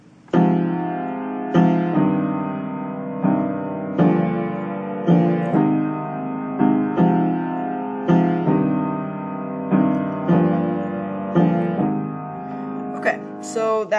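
Piano left hand playing a progression of four chords, each struck twice in a steady, even rhythm of repeated attacks that ring and decay, clear and alone with no talking.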